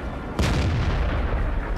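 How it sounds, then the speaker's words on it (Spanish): A tank cannon fires in World of Tanks during play as the American M10 Wolverine tier 5 tank destroyer. It gives one loud, sharp boom with a rolling tail, and another blast starts right at the end. "ese disparo fortuna ha dado en la cúpula de comandante."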